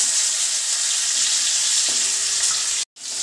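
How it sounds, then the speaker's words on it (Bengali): Potatoes frying in hot oil with whole tempering spices and bay leaf, a steady close sizzle throughout, broken by a short silent gap near the end. "আলুগুলো একটু হালকা করে ভেজে নেবো।"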